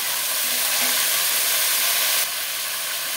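Yardlong beans and radish frying in a pan, a steady loud sizzling hiss close up that drops slightly in level near the end, no talk.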